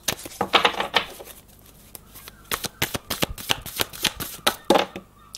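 Tarot cards that stick together, shuffled by hand: close, papery riffling and slapping bursts in quick irregular runs with short pauses between them.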